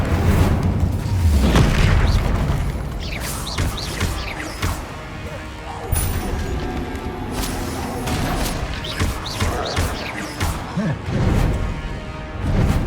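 A Confringo spell blast in Hogwarts Legacy, heavy booming explosions and crashing impacts mixed with game effects and ongoing speech, loud and close.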